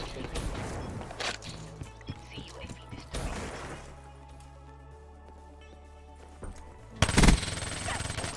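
Bursts of rapid gunfire from a Vesper gun in a shooting video game: a loud volley at the start, another around the third second, and a heavy close burst near the end, with quieter game noise in between.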